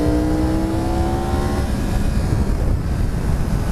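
A Yamaha R1 sports motorcycle accelerates hard in first gear, its engine note climbing steadily for about a second and a half before dissolving into loud, rushing wind buffeting that dominates the rest of the stretch.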